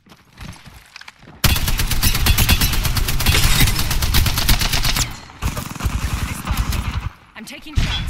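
Sustained automatic weapon fire in Apex Legends, loud and close, in long rattling bursts with brief pauses around the five- and seven-second marks.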